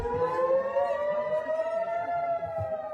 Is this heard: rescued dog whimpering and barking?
no